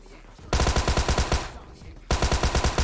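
Rapid bursts of automatic gunfire in PUBG Mobile, loud and close, in two sustained strings separated by a quieter pause, with a faint voice briefly underneath.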